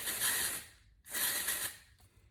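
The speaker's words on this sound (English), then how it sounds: "I'm gonna spray them with texturizing spray" Two bursts of Kristin Ess dry texture spray misted onto hair, each a loud, close, steady aerosol hiss lasting about half a second, separated by a brief pause, with a softer short puff at the end.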